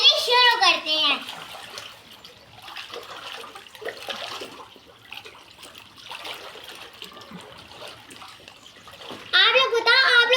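A girl splashes and swims in a swimming pool, with water sloshing and splattering at close range, loudest at the start and end, as children's voices chatter and shriek over the water.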